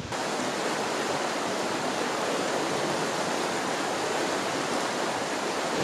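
Creek water in Coyote Gulch, Utah, flooded after a wet day, rushes with a loud, dense, unbroken roar that stays steady throughout, with no voices.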